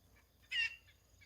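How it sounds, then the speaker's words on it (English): Backyard chickens give a short, bright clucking call, quiet and fairly close, preceded and followed by a few fainter chirps against a low steady hum. "My chickens make really cute noises."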